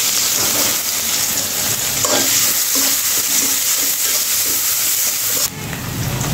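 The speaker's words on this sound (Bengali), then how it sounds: "পেঁয়াজগুলো আমি লাল লাল করে ভেজে নিয়েছি" Chopped onions fry in hot oil in a pan used for rohu fish and are stirred, giving a loud, close sizzling hiss broken by rhythmic scraping strokes of the spoon, which ease off near the end.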